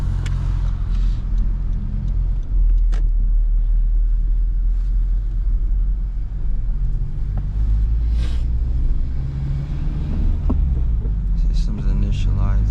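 A Honda Civic Type R FK8 driven normally in sport mode gives a steady deep engine rumble and road hum from inside the cabin, loud and continuous, with a few faint clicks and knocks on top.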